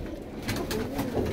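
Pigeons of teddy and golden breeds cooing in a short run of soft, low, throaty calls that repeat close by, with no one talking.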